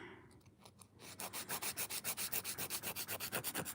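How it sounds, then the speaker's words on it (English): A nail file rubs across fingernails in quick, even back-and-forth strokes, close and fairly soft, with a quieter start before the steady rhythmic filing takes over. "go ahead and start filing"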